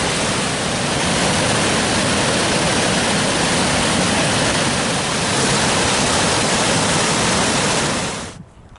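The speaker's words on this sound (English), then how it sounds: "one of the few places in Europe where the water actually falls over the top of natural marble" Waterfall at Glen Orchy pouring over natural marble, a dense, steady, broadband roar close by that stays constant for about eight seconds before cutting away.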